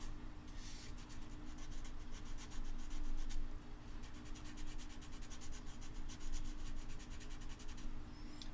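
Sanding during a livestream hangout: steady, faint, rapid back-and-forth scratchy rubbing runs throughout over a constant low hum, with no talk.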